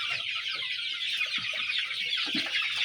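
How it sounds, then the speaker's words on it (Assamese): Local chickens cluck in short, irregular bursts close by, layered over a steady high-pitched hiss with no talking. "এইখিনি লোকেল মুৰ্গীখিনি"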